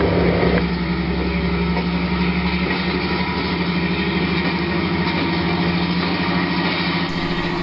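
Diesel locomotives, 2,000-horsepower GP38-2 units, idle and rumble at an engine yard, a steady low engine drone with a humming tone that stays constant and close throughout.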